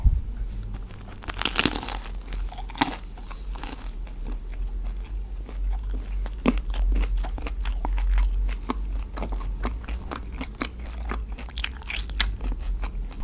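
Someone bites into a meat banh mi bread roll from Sungsimdang bakery in Daejeon and chews it up close. The crusty bread gives crisp crunches and crackles, followed by a steady run of soft, wet chewing in a quiet setting.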